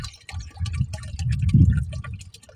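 Metastar pesticide liquid pours into a water drum on a farm, a close gurgling, dripping splash that swells to a fuller pour before tapering off.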